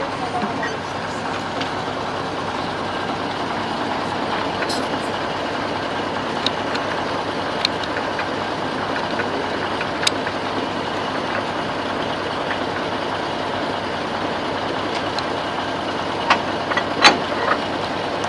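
Heritage train uncoupling on the Vendée railway, heard as a constant loud rumble of engine and rolling stock with scattered metallic clanks and brief squeals, close by.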